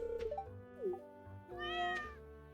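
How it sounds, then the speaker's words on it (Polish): A cartoon farm cat in Stardew Valley meows twice, a short high mew followed by a longer, drawn-out meow, clear and close over a soft looping game music bed. "Yes, see this cat?"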